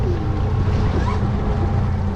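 Tiller-steered outboard motor on a 2025 Hewescraft 22 Pioneer open boat being throttled up, a loud, steady, close engine drone over water with no talking.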